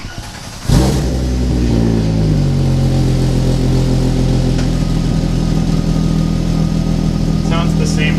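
A Volkswagen engine with an exhaust leak starts up and runs steadily, loud and close, with a rough, continuous idle and no talking.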